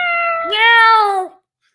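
A person imitates a cat's meow, one loud, drawn-out and rising-falling yowl lasting about a second and then cut to silence.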